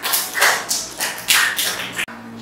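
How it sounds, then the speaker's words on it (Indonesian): A Year 5 Islamic school class applauds a student, a short burst of brisk, close clapping that cuts off abruptly, with no talking over it. "Tepuk tangannya."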